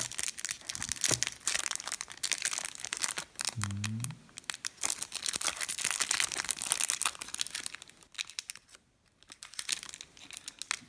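Foil wrapper of an OFS Classic Extraliga hockey trading card pack crinkling and tearing close by, in repeated rustling bursts with brief pauses and no talk.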